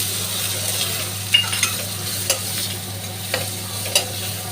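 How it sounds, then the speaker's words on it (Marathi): Chopped onion sautéing with turmeric in a pan, a steady close sizzle with a low hum beneath and a few sharp scrapes and clinks of a spoon stirring at irregular intervals. "कांदा चांगला परतून घ्यायचा आणि मग ह्याच्यात हळद टाकायची आहे"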